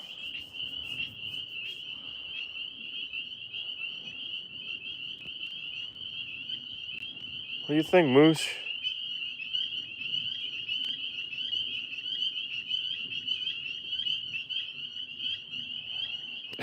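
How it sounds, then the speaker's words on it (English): Tree frogs trill steadily through the night in a continuous high chorus, with a low rumble of other night sounds underneath. A short rising sweep breaks in midway, and a voice is heard briefly. "Do you guys have tree frogs there?"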